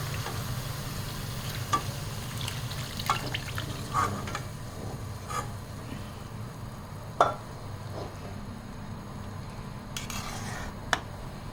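Carrot halwa cooking in a pot with added milk, a low steady bubbling simmer with occasional clinks of a spoon against the pan, close and fairly quiet without talk.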